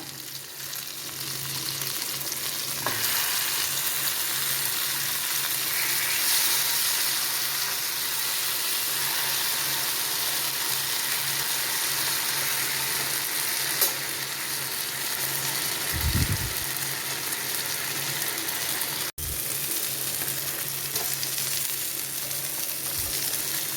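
Pomfret fillets fry in a covered-then-uncovered pan, giving a steady, loud hiss of sizzling oil that runs throughout, with a couple of soft low thumps near the end.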